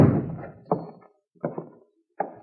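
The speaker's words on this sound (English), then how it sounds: "If you want in, just shove the door." A door is shoved open in a radio drama, heard as a heavy wooden thump followed by three further knocking thuds at irregular intervals, close and fairly loud.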